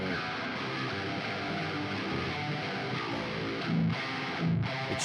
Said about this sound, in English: It's just chorus pedal on, and the settings are the same as the other 2 tones.